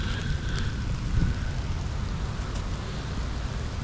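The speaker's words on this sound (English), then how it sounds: "So it's raining right now." Steady outdoor rain falls beneath a tree during metal detecting, a dense, even hiss of drops on leaves and ground filling the whole stretch with no voices.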